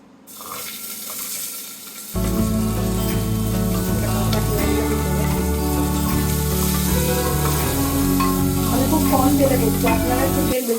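White cumin and dried chillies sizzle loudly in hot oil, a dense continuous crackle that jumps up sharply after a quieter start and keeps frying steadily.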